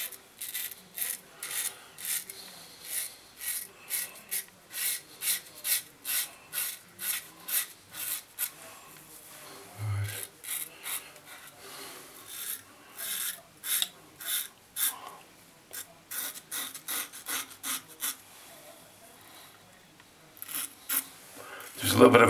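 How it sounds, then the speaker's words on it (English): Razor shaving stubble along the jaw at a steep angle, a rapid series of close, dry rasping scrapes in short repeated strokes with brief pauses between passes. "I'm shaving like that, and that's why it's making the noise"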